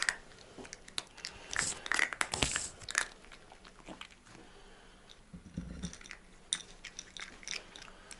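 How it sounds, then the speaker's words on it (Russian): Close, noisy chewing with irregular crunchy bites and wet mastication sounds, fairly faint overall with a few sharper crunches standing out. "Не чавкай, не чавкай."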